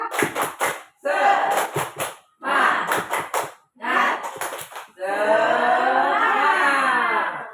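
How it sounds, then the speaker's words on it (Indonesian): A group in an Indonesian training session performs the tepuk semangat spirit clap: bursts of sharp rhythmic claps in short patterned bars, separated by brief pauses, then a longer loud sustained stretch of clapping and voices at the end. "Yuk, tepuk semangat."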